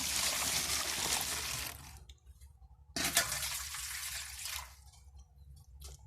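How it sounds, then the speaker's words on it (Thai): Clean water is poured into a bottle of photosynthetic bacteria culture in two splashy, gurgling pours separated by a short pause, close and fairly quiet, with no talking. "ทีนี้เราก็มาเติมน้ำนะครับ เติมน้ ำ อันนี้ใช้น้ำสะอาดเลยนะครับ"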